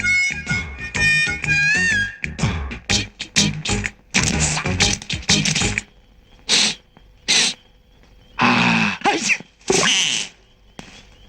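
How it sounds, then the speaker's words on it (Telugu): A man in a Telugu comedy scene sneezes in a string of loud, close, explosive bursts with voiced, breathy tails and short gaps between them. "ఇదేంటి ఇంత తొందరగా తుమ్మాడు?"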